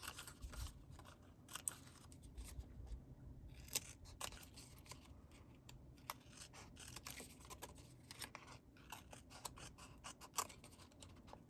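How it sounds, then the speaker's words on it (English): Scissors trimming paper word strips, a run of quiet, close, crisp snips repeating irregularly throughout with brief pauses between cuts. "let's go ahead and trim some of these off"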